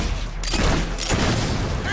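Gunfire during a battle in the fantasy game Fable 3, a loud thudding burst of shots and booms over a busy background, with a voice speaking in the mix.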